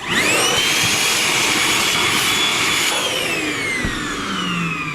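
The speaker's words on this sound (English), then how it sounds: "as a cordless vacuum cleaner, it does the job of sucking stuff up. It is powerful. That's why it's noisy." A Milwaukee M18 cordless hand vacuum cleaner runs loud and steady with a high whining motor pitch, starting as it spins up and holding a constant, close, powerful drone.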